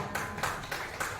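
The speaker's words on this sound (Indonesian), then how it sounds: "tepuk tangan untuk Mija" An audience at a school workshop claps in four quick faint bursts of applause over a little more than a second.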